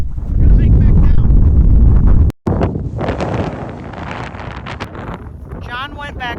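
A strong wind on a mountaintop during a windstorm buffets the microphone with a loud, continuous roar that cuts out briefly, then carries on a little softer, with a faint voice near the end.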